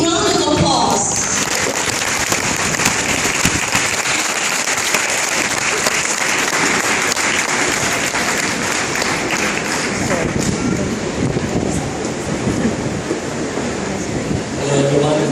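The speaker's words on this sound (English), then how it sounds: "Let's give him a big round of applause." Sustained, loud applause from an audience at a school recognition day welcoming the keynote speaker, dense steady clapping filling the whole stretch with crowd murmur mixed in.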